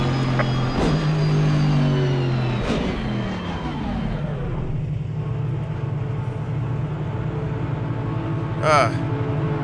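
An Aston Martin racing car engine in Assetto Corsa Competizione at Mount Panorama roars and revs, its pitch sweeping up and down through gear changes, with a brief higher tone near the end.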